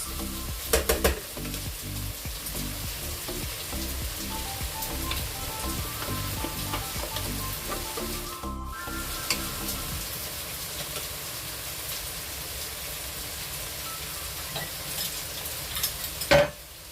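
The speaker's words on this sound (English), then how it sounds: "now we're gonna add in our portobello mushrooms" Portobello mushrooms hit a hot soup pot with a loud, steady sizzle that runs for the whole stretch, with occasional stirring scrapes and a brief sharp clatter near the end, no talking.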